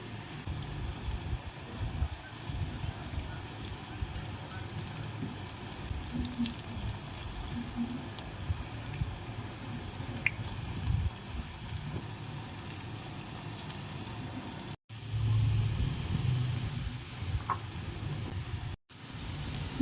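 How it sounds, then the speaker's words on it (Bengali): Fritters made from pointed gourd peels fry in hot oil, giving a soft, continuous sizzle and bubbling with faint crackles throughout, broken by two brief cuts, with no talking. "বড়াগুলোকে এবারে আমি এপিট ওপিট করে ভেজে নেব।"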